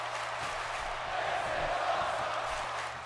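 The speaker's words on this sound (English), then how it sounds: "The crowd shouting this is awesome" A large arena crowd roars and chants in a WWE 2K16 wrestling game match, a steady wash of massed voices that swells slightly midway and holds throughout.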